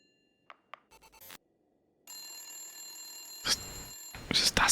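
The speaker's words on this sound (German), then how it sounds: "Ist es das Telefon, das klingelt?" A telephone rings in the game The Suicide of Rachel Foster, a steady electronic trill repeating in close, loud bursts, preceded by a few short clicks and thuds in an otherwise quiet room.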